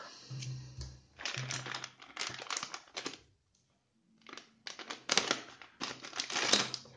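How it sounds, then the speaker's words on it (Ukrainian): A plastic parts bag for an MST CFX-W RC crawler is torn open and handled, giving close, crisp crinkling and rustling in bursts with a brief quiet gap midway. No one speaks. "зараз розпаковуємо пакет і встановлюємо"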